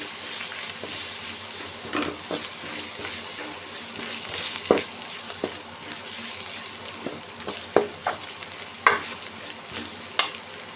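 Chili powder and ginger garlic paste frying in oil in a home kitchen, a steady close sizzle broken by several sharp scraping knocks of a spoon stirring the pan, with no talking.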